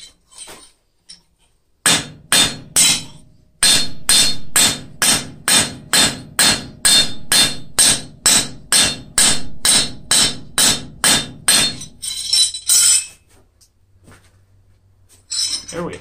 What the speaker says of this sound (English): Beat in your bevels, so on and so forth like that.